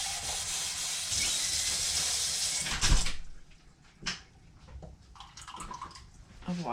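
Half a cup of water is poured for roasted rhubarb with a steady hissing splash for about three seconds, which cuts off abruptly and is followed by a few light clinks and kitchen handling sounds.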